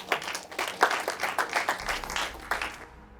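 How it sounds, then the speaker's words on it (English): Applause from a seated audience at a business talk, a dense burst of many hands clapping that fades out after about three seconds with no voices over it. "Round of applause."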